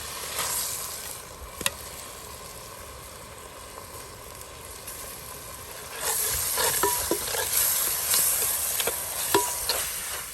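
Finely chopped onion fries in ghee in a pan, giving a steady low sizzle that turns louder and brighter halfway through, with scattered scrapes and clicks from stirring.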